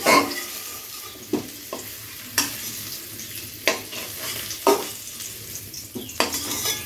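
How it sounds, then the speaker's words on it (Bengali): Vegetables sizzle steadily in hot oil in a kadai while a spatula scrapes and clatters against the pan in regular strokes, close and fairly loud. "মোটামুটি সমস্ত সবজি আমার ভেজে নেওয়া হয়ে গেল"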